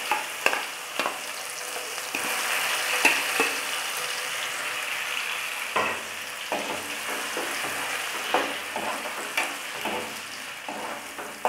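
Garlic and onion paste frying with spices in a pan, a steady close sizzle broken by repeated scraping and tapping strokes of a stirring spoon, with no one speaking.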